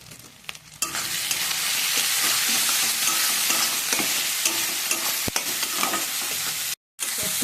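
Ground coriander and cumin with salt and sugar stir-frying in a hot pan: a loud, close, steady sizzle that starts abruptly after a quiet moment, with utensil scrapes and a short dropout near the end.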